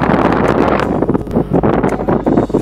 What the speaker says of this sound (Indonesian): Angin kencang sekali